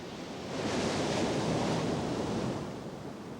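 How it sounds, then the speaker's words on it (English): Ocean surf with surfboarders riding the waves, a single wave swelling into a broad whooshing roar, peaking and then easing back, with faint wind in the background and no voices. "surfboarders riding the waves"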